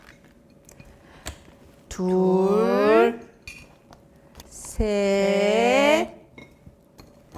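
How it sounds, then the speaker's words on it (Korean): Metal tongs lift frozen dumplings and set them into a bowl during a cooking activity. A few light, sharp clinks and taps sound close by between two short spoken counts. "집게를 가지고 만두 4개를 꺼내서 그릇에 올려주세요"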